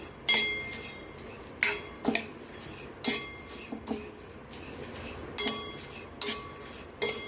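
Pumpkin, sunflower, chia and flax seeds dry-roasting in a pan without ghee, stirred with a metal utensil that scrapes and clinks against the pan in regular strokes roughly every second, close and clear, with no talking.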